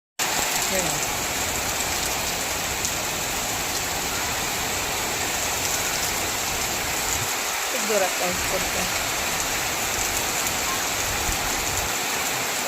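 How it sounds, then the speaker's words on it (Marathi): Heavy rain pours down steadily, a dense continuous hiss filling the whole clip, with a faint engine rumble underneath. "अचानक खूप जोरात पाऊस आहे"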